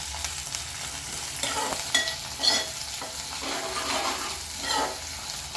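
Ginger garlic paste frying in a pan for stuffed brinjal curry: a steady close sizzle broken by several scraping strokes of a spoon stirring the paste, no voices.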